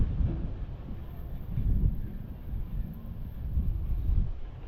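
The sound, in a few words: strong wind and rain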